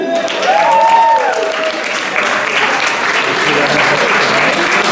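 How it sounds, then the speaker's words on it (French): Outdoor crowd applauds the men's winner of a Rond pagan Breton dance contest in Guissény, a loud, sustained burst of many hands clapping with an announcer's voice sounding over the start. "On peut applaudir Manu Gouillou."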